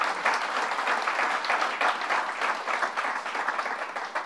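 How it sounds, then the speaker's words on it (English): Sustained audience applause fills a room at a governor's bill signing for the Child Victims Act, dense steady clapping lasting several seconds with no talk over it. "especially Marcy Hamilton, let's give them a round of applause."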